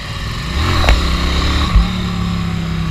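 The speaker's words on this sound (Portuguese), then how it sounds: "esse barulho bicilíndrico. Do bicilíndrico da Ducati" A Ducati Scrambler twin-cylinder motorcycle engine rumbles close by, revving up and dropping back twice with a throaty, lumpy pulse.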